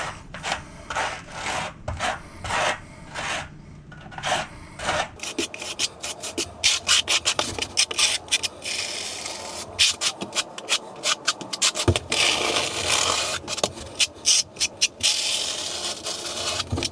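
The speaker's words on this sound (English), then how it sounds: "This is a 4-inch square notch trowel." A 4-inch square notch trowel spreads thinset cement over a shower floor before hexagonal marble mosaic tile is set, giving repeated close rough scraping strokes in an irregular rhythm, with no talk.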